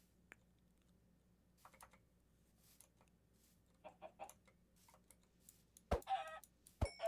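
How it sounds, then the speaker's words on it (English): Chickens clucking in short, faint bursts under quiet keyboard typing, growing louder toward the end with a couple of sharp close clicks. "I hear chickens"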